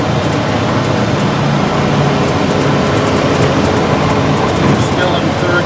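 A 1954 Dodge Power Wagon M37 truck crawls around curves on a potholed dead-end road at roughly 30 km/h in third gear, its engine and road noise forming a loud, steady rumble throughout.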